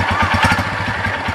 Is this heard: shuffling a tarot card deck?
no